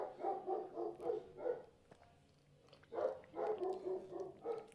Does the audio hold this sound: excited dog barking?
yes